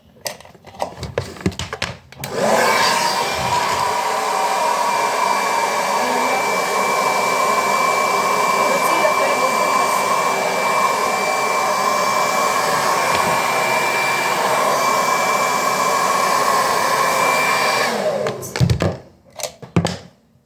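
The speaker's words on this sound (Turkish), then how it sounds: "Yani saçımı birazcık fön tutmam gerekiyor illa." A hair dryer runs steadily at close range for about fifteen seconds as hair is blow-dried, starting and stopping abruptly with a few handling knocks at either end.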